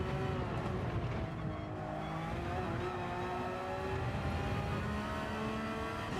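Racing cars in Gran Turismo 7, including a Lamborghini, race in a Group 4 Nations Cup event at the Red Bull Ring, their engines holding a loud, steady, layered whine with shifting tones as they run close together.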